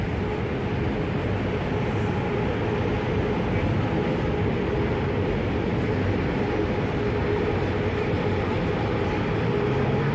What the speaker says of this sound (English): And right above it is the SkyTrain.